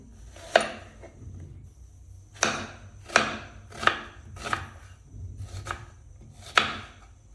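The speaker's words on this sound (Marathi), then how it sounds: "कांद्याला आता आपण कापून घेऊया" Two large onions chopped with a knife on a board for a Maharashtrian mutton dish with green onion stalks, heard as sharp, close knife strikes in an uneven rhythm, about seven cuts alone without talk.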